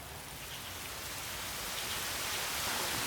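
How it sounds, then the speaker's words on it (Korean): Sudden rain falls steadily in an outdoor park, a dense hiss of drops on surfaces that swells and grows heavier over a few seconds, with no voices. "갑자기 내리는 비."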